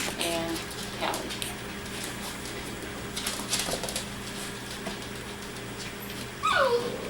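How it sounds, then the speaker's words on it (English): A litter of young puppies gives soft, high whimpers and yips, faint against a steady indoor hum, with a louder squeal near the end and birds chirping faintly. "Kilo and Gunner's pups"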